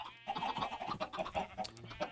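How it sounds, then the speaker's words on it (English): Clucking and squawking chickens in the Minecraft video game, a cluster of birds penned in a small box, with overlapping short calls repeating steadily at moderate, close range and no talk. "You can hear all the chickens squawking away"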